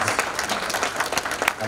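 An audience at a Beninese diaspora gathering in the USA breaks into applause, a dense, continuous patter of many hands clapping at close range, with crowd noise mixed in throughout.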